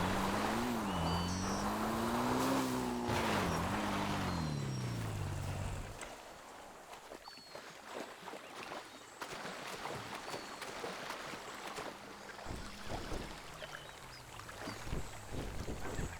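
A motorboat cruises in the video game GTA Online during the Cayo Perico heist: a droning engine tone wavers for the first six seconds, then gives way to softer rushing water and wind noise.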